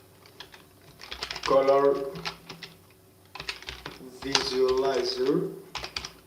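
Rapid clicks of typing on a computer keyboard patter throughout, close and light, partly under someone speaking in two bursts.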